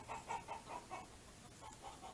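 Chicken on a farm clucking while being held, a soft run of quick repeated clucks, faint and close.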